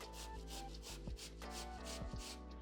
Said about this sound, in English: I am going to grate it on the very fine side of the grater into the cheesecloth